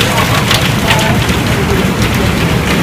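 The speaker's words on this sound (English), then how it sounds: "That's big hail." Big hail falling in a tornado-producing storm, a dense, loud, continuous patter and roar of stones striking surfaces close by, without pauses.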